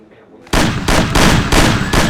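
Gunfire in the Mafia: The City of Lost Heaven video game, a run of loud close shots in quick succession, each report booming and overlapping the next after a brief quiet lead-in.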